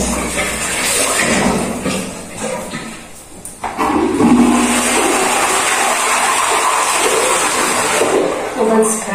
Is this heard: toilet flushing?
yes